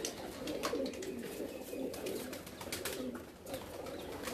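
Pigeons coo softly at a rooftop loft, faint and low, with the soft repeating calls of several birds blending into a quiet ambient background.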